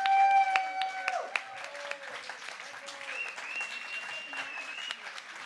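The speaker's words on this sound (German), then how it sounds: "11 Punkte Applaus für die Vortragenden" Applause from a science slam audience for the speakers, a dense wash of clapping under a sustained tone and voices, loudest at the start and then settling.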